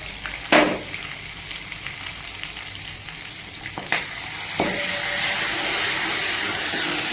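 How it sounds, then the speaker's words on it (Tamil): Ground onion paste drops into a hot pan for fish curry and sizzles loudly, a close, steady frying hiss broken by a few sharp clatters from the pan. "இப்போ நம்ம அரைச்சி வச்சிருந்த வெங்காயத்தை போட்டாச்சு."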